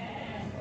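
Lambs at a sheep market bleat briefly and faintly, a single short call.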